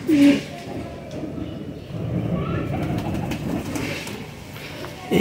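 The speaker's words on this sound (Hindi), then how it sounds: "बहुत आला कबूतरी है दोस्तों।" A pigeon coos several times in a home breeding loft, a soft low rolling call near the start followed by more muffled cooing under steady background noise, with someone talking.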